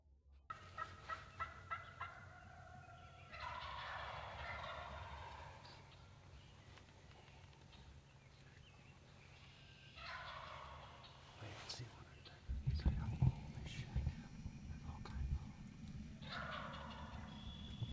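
A wild turkey gobbles back at a turkey call during a hunt. Several loud, rattling gobbles cut through outdoor background noise, with quiet voices between them.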